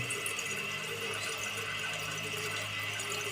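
Water overflowing in a toilet tank, a steady continuous rushing and trickling stream, close and moderately quiet, running unchanged throughout with no talking.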